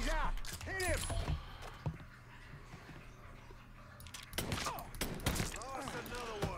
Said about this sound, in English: Three shots in the chest and he's down.